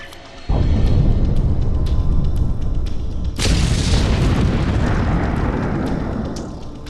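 Two heavy booms go off in the Star Trek Online video game. The first is a deep blast with a long rumbling decay, and a second, brighter explosion follows about three seconds later, both loud and close.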